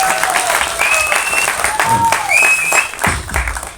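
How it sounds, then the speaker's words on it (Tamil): Audience clapping steadily at a Tamil film press event, a dense, sustained round of applause filling the room from start to finish, with faint voices and a few sharp whistles rising above it. "கைத்தட்டி சவுண்ட் ரொம்ப சந்தோஷமாக இருக்கு."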